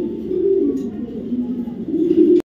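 Racer pigeons coo in a steady low throaty murmur, several birds close by, continuous and fairly loud with no talk.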